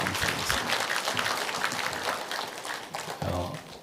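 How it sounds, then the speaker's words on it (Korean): A church congregation at a Sunday morning service applauds a choir, a close, full round of clapping that swells and thins slightly over a few seconds. "다시 한번 큰 박수 한번 쳐주시면"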